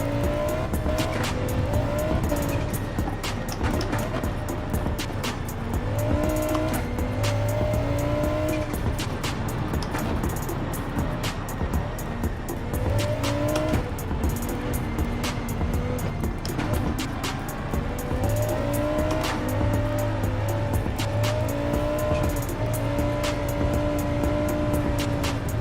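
Mustang and other race cars in Gran Turismo 7 roar steadily, engine notes rising and falling through gear changes, with tire squeal and occasional clicks over a constant loud drone.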